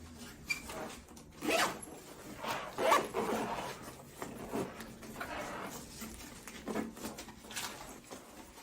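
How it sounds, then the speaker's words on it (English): Several short zipper pulls rasp at close range around a pet carrier, coming in uneven bursts with brief pauses between them, no voices present. "So it's one zipper coming all the way around."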